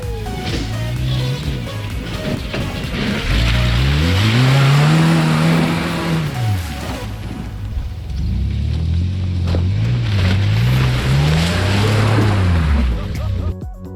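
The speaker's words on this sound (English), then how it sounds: "Only bad news is kind of a bit of a water crossing here at the end." An off-road vehicle on the Detroit Gambler 500 rally pushes through a trail water crossing, its engine revving hard in two long, loud surges that rise and fall over a continuous wash of noise.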